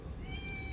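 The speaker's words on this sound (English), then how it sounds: "This is my cat meowing" A pet cat gives a single short, quiet meow indoors, heard alone with no talking.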